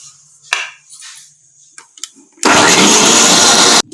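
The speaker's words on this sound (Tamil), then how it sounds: "இப்போ இதை நல்லா மிக்சியில் அடித்து ஜூஸி எடுத்துக்கலாம்." Mixer grinder blending pomegranate seeds with water into juice, a loud continuous whirring motor that starts abruptly and runs steadily for over a second before cutting off, preceded by a few small clatters.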